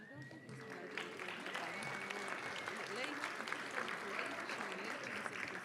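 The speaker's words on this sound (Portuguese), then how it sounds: "Vamos aplaudi-la com sua professora" Applause from an audience at an essay and drawing award ceremony, honouring a student and her teacher; steady clapping from many hands, with a voice briefly audible at the start.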